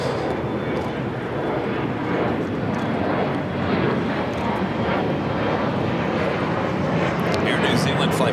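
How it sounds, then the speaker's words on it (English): Air New Zealand Boeing 777-300ER touching down on runway 25 left at LAX after a long flight from Auckland, a steady broad engine rumble at moderate distance with voices talking over it. "Air New Zealand Flight 4 coming up from Auckland at 777 to 300 ER, touching down 25 left."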